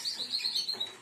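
Canaries chirping and twittering in an aviary, a steady run of bright, high calls close by with no talk over them.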